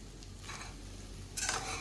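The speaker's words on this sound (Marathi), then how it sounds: "तळापासून हलवायची खिचडी," Sabudana khichdi scraped and stirred from the bottom of a kadhai, soft scraping under a faint sizzle, with a brighter burst of stirring near the end.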